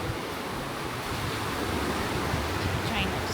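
Ocean waves wash onto the beach at Longboat Key, Florida in a continuous broad rush of surf, steady and fairly loud, with wind noise on the microphone.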